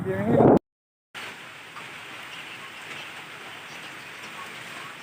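Steady rain patters continuously on a surface after a short loud burst and a moment of silence at the start.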